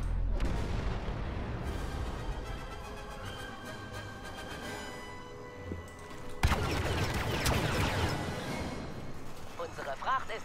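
Explosions from several grenades in the video game Battlefront, heavy booming blasts with a sharp loud burst partway through, layered over dense battle noise and continuous talk.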